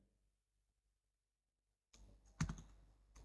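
Short burst of computer keyboard typing, a quick cluster of clicks entering a date into a spreadsheet cell after nearly two seconds of silence.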